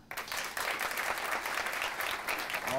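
Audience applause and clapping at a stand-up comedy show, a sudden burst of fairly loud, dense clapping that continues steadily from the crowd across the whole clip.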